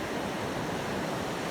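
Ocean waves washing on a beach at super low tide at San Buena Ventura Beach, a continuous close rushing hiss of surf with steady loudness and no voices.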